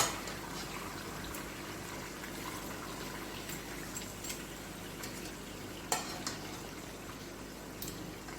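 Beef and tomatoes hiss and bubble in oil in a karahi, a soft, steady sizzle with watery stirring and a couple of sharper clinks, quiet and close with no voices.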